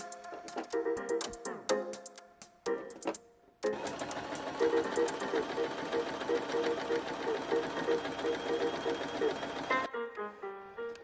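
A Janome sewing machine sewing a straight stitch runs in short stop-start bursts, then stitches continuously with a fast, even mechanical chatter before stopping.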